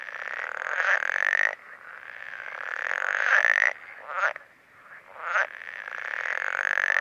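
Male frogs in Slovenia croak in the run-up to the mating season: a loud, close, continuous buzzing chorus, broken by a few brief pauses and rising swells.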